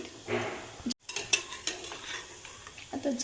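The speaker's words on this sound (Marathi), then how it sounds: "आता बारीक मंद गॅसवर आपण तळून घेणार आहेत" Sweet potato gulab jamun fry gently in oil over low heat, with a soft bubbling sizzle, a brief gap, then clinks and scrapes of a utensil moving them in the pan.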